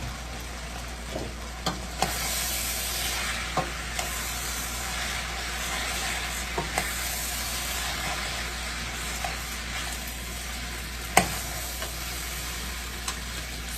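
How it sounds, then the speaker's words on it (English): Pasta being stirred and mixed in a sizzling pan, a steady loud frying hiss broken by repeated scrapes and knocks of a utensil against the pan, close up with no talk. "So I am mixing it together"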